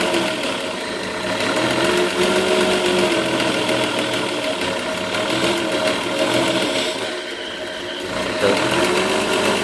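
Car engine fitted with a Stromberg carburettor idling with a hand held over the air intake, a steady mid-pitched running note whose revs dip and recover as the airflow is choked, close and fairly loud, no talking.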